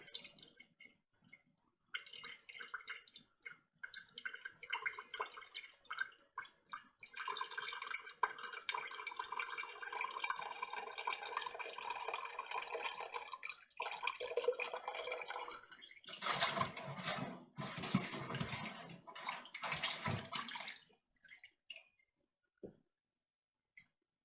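Hot homemade turkey bone broth drips and trickles slowly into a cold glass jar, a steady close liquid patter that swells louder toward the end and then stops, with no voices.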